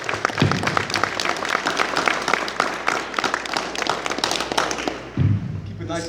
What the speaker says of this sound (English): Can we get a hand of applause to the 547?